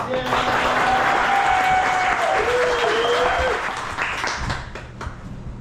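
An audience at a storytelling event applauds as a woman comes to the stage, with loud, dense clapping and a few whoops that taper off near the end.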